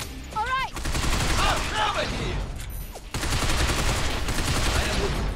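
Gunfire in the video game Binary Domain, dense and continuous bursts of shots filling the clip, loud and close, with a brief lull near the middle before the firing resumes.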